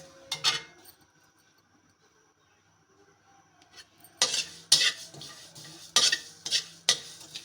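Dry ingredients roasting in a pan for Punjabi panjiri, a quiet stretch followed by a series of sharp scraping stirs against the metal, close and rhythmic, with no one speaking.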